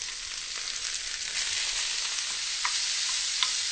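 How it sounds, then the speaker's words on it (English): Vegetables sautéing in a pan over medium heat, giving a continuous, even sizzle with a few faint ticks and pops, close and moderately loud, with no voices. "Cooking this over medium heat until, they start to brown a little bit and start to cook down"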